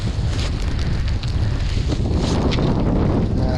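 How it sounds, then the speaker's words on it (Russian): Strong wind roars over a frozen river on the Pechora during winter ice fishing, a loud, continuous buffeting gust hitting the microphone, heard alone without talk. "Ветер в харю, а я шпарю."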